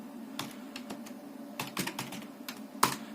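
Short bursts of keystrokes on a computer keyboard while entering a date in Tally ERP 9 accounting software, close and clear, with irregular clusters of clicks and a sharper final tap, no voices.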